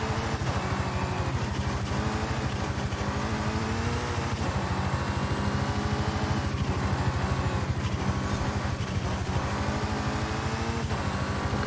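A 2017 Alpine A110 engine in Forza Horizon 5 drones loudly and steadily through a road rally stage, its revs rising and falling slightly without a break.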